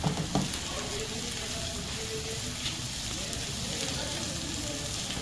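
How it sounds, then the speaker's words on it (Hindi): Ginger garlic paste sautéing with onion in a pan gives a steady, close frying sizzle throughout, with a few faint clicks and no talking. "अब हम इसमें जिंजर गार्लिक का पेस्ट डाल देते हैं और इसे भी थोड़ा सा सौटे करते हैं"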